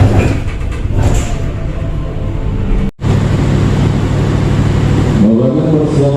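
A Tawang Jaya passenger train idles at a station platform on track 1 before departure, giving a loud, steady low rumble with brief mechanical clunks and a short break in the noise.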